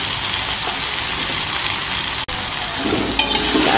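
Tempeh sizzles and fries in a fragrant spice paste with chili for a spicy banana blossom stir-fry, a loud steady crackle with a brief dropout and stirring clatter toward the end.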